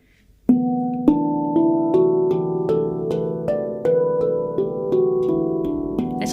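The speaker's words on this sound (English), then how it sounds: "One of my favourite places to do it is inside the dimples of the notes because you've got a bassier, fuller," Handpan struck inside the dimples of its notes, giving a bassier, fuller, warmer tone: a steady sequence of ringing, overlapping metallic notes, close and clear, each strike sustaining into the next, with no talking.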